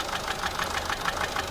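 A Peugeot 407 1.6 HDi diesel engine, recently fitted with a turbo and puffing white smoke, idles with a fast, even knocking tick repeating steadily and close up, with no voices.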